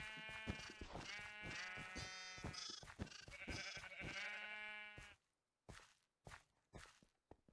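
Sheep bleat in a Minecraft Mineplex minigame: a busy stretch of repeated, harmonically rich bleats and steps for about five seconds, then a short pause and a few scattered, separate bleats.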